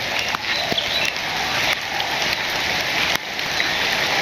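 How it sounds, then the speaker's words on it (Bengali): Light rain falls steadily in a village yard among mango trees, an even close hiss of drops with a few sharper taps and no voices. "এই যে আবার বৃষ্টি শুরু হয়েছে"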